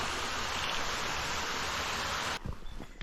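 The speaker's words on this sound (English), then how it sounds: "It's actually flowing pretty well. Quite a pretty little waterfall." A small waterfall on a bush walk in Avoca, Victoria, runs strongly after heavy rain, a dense steady rush that suddenly drops away near the end, leaving quiet ambience with a few faint knocks.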